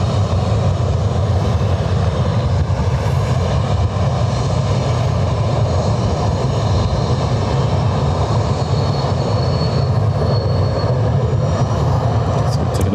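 A Condor Airbus A321 jet at Lanzarote Airport fills the scene with a loud, steady engine roar, a broad continuous rumble that holds its level throughout with no voices.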